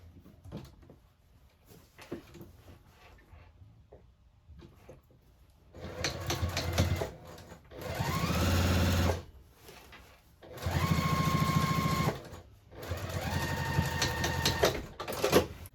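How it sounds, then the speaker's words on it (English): A sewing machine sews the bottom seam of a zippered tote bag at a 5/8 inch allowance, starting after quiet fabric handling and running in three loud, steady whirring bursts with brief pauses between. "go ahead and sew up that bottom, continuing that 5/8 inch seam allowance"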